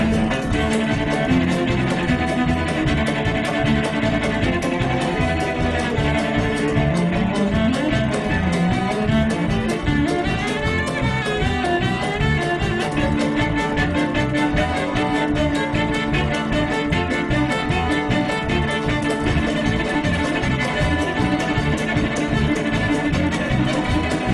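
A full band plays a lively, dense tune with a fiddle sawing along on top, loud and continuous throughout with no pauses.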